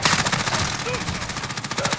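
Rapid automatic gunfire from an Uzi in a war video game rattles in quick, evenly spaced bursts throughout, loud and close, with a faint voice underneath.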